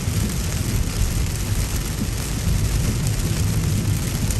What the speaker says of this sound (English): you guys are getting a rain stream